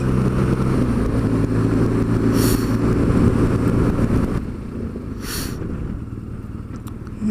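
A vehicle engine with a throaty, rumbling note idles and revs loudly and steadily nearby, dropping to a lower, quieter drone partway through.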